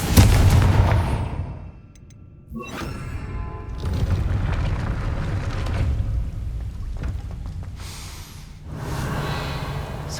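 A Confringo blasting spell cast in Hogwarts Legacy near a closed gate: a loud fiery burst of crackle and rumble, a brief lull, then sustained roaring blast noise that swells again at the end.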